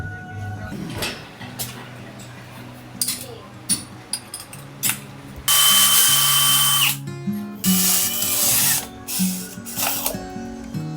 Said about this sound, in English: Do we have a drill on the boat?